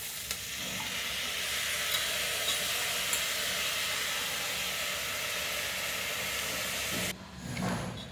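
Soaked foxtail millet tipped into a hot pan with a vegetable tempering, giving a loud, steady, close sizzle and hiss for about seven seconds that drops off sharply near the end, with no voices.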